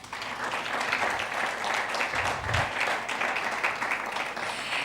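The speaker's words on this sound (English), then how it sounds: "show them an appreciation with a round of a warm hand clap" Sustained warm applause from a conference audience at a health tech investor summit, a broad even roar of many hands clapping for several seconds, with a faint low thump partway through.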